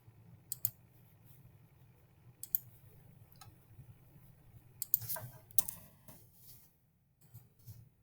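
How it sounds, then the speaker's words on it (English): Faint, sparse computer mouse clicks, a handful of sharp isolated taps spread irregularly over a quiet room background with no talking. "So I'm going to click on Missy."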